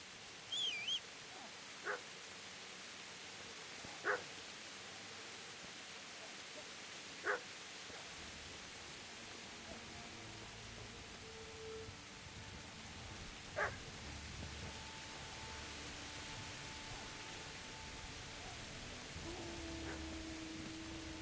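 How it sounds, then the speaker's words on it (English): A dog in the video game Kingdom Come: Deliverance gives a few faint, distant barks spaced several seconds apart over a quiet outdoor ambience with a low hiss. "Okay, I'm hearing a dog. I gotta go check it out."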